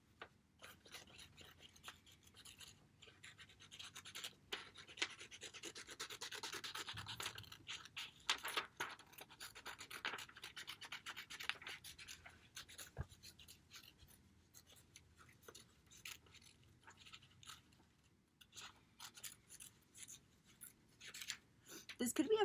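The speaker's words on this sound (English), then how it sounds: "I'm going to just take my scissors, I'm going to cut around my Mickey Mouse heads." Scissors cutting around Mickey Mouse head shapes in paper, quiet intermittent snips and papery rasping scratches spread unevenly across the stretch, faint and close.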